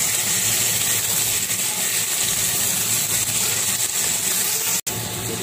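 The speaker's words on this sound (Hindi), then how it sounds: "अब इसमें कीमा अच्छी तरह से डाल के इसको मैं फ्राई कर लूँगी" Minced meat (qeema) frying with onions in a home kitchen pan for a bitter gourd keema dish, a steady close sizzle and hiss that runs without a break, with one brief dropout near the end.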